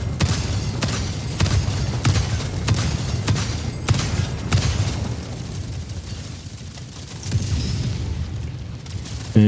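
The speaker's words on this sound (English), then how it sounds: "here we have our autocannon versus the tank" Autocannon from the video game Helldivers 2 firing at a tank, a steady series of loud, heavy booming shots at regular intervals with some pauses between bursts.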